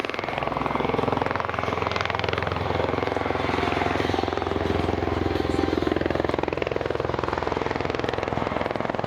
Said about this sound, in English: the V22 Osprey approaches in the vertical takeoff and landing mode, just like a helicopter